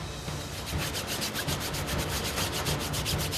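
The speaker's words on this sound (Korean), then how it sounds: "솔에 세제를 묻혀 꼼꼼하게 곰팡이를 닦아냅니다" A brush loaded with detergent scrubs mold off water park life jackets, giving a steady, continuous rubbing scrape with rhythmic back-and-forth strokes, fairly close and alone.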